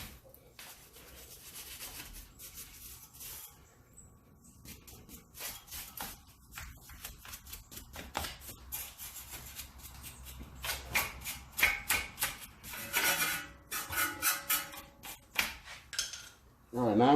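Scrubbing rust off a Honda Accord brake caliper with a brush: uneven bursts of close, gritty rubbing strokes that speed up and grow louder toward the end, with faint metallic clinks.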